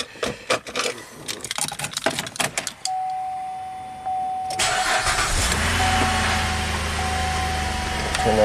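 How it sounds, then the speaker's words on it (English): Chevrolet Malibu engine starting up: a few clicks and knocks, then the starter cranks briefly before the engine catches and settles into a steady close idle. "We'll start the car."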